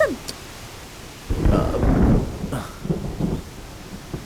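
A deep rumble of thunder rolls in outdoors as rain approaches, swelling heavily after a quiet start and then breaking into a few fainter grumbles and rustles.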